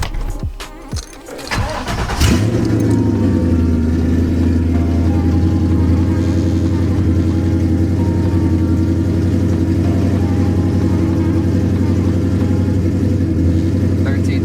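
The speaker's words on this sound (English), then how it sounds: "Because the car's pretty cold, I'll give it a little rev." A cammed Ford Mustang GT engine, started cold, cranks and fires with a sharp burst, then settles into a loud, deep, rumbling idle that holds steady throughout.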